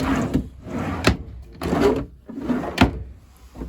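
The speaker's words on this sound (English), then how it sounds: "Drawer storage down below." A drawer in a 2005 National Sea Breeze 8360-A motorhome slides open and shut repeatedly, four close, loud wooden sliding strokes each ending in a thump, with no talking.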